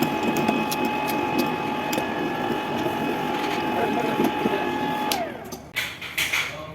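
A Pazto 21T PT50 pipe threading machine runs with a steady mechanical drone and a whine of gears. The whine drops away near the end as it winds down, leaving rattling knocks.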